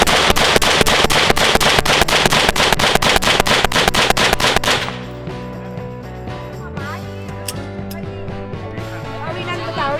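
Rapid, loud gunshots fire in a quick regular string for several seconds, then stop, leaving a ringing echo and background sound.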